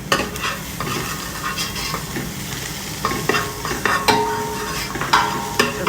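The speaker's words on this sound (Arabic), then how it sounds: "الحين نحط الثوم، معجون الثوم والزنجبيل، نحمسه دقيقتين 3." Garlic and ginger paste frying with onion in a pot for fish stew, a steady close sizzle broken by scraping stirs and occasional clinks of a utensil against the pot.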